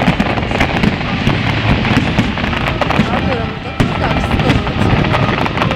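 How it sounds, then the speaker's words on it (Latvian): Continuous fireworks at the Riga city festival fill the air with dense crackles and repeated sharp bangs over a booming rumble, some voices faintly mixed underneath. "Tas ir Artūra salūts."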